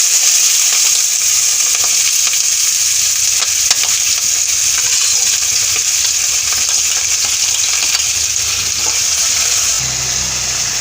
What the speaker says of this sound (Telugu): ఇప్పుడు నూనెలో వేసి వేయించుకోవాలి.